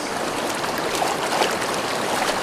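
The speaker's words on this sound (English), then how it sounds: "Get all the scales, give it another rinse." Scaled fish being rinsed in water outdoors on a northern wilderness trip, a steady close wash of splashing and trickling water with soft swishes throughout, no voices.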